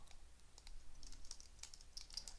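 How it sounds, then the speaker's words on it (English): Keys clatter on a computer keyboard in quick, uneven bursts as data is entered into a table, the tab key pressed among the strokes; close and quiet, with no speech. "I am typing the tab key to move between cells."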